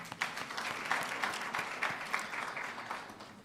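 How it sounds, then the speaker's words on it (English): Audience applause at a research symposium fills the room, a dense, steady clapping from a crowd held at even loudness all the way through, with no voice over it. "Let's give another round of applause to our speaker, Dr. Mostert."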